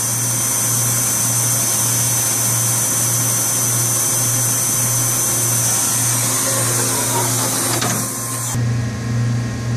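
A VMC machining center runs a turning pass with a steady, loud mechanical drone and a low hum, holding constant before shifting tone near the end as the pass finishes.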